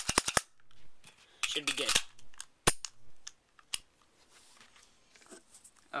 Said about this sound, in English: Rack your slide a couple times. It should lock back with an empty mag in.